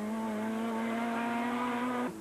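High-revving Honda rally car in Class 3 of the 2003 Donegal Harvest Rally, a loud sustained engine note held steady near the limiter for about two seconds before dropping off abruptly.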